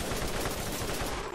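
Pistol shots in the Borderlands shooter game, fired in a fast continuous string so the reports blur into a loud, dense rattle.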